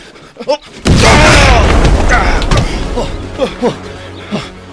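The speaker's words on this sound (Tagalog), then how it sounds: "Granada!" A grenade explodes with a sudden loud close boom that rolls and decays over several seconds, followed by shouted voices and scattered sharp knocks.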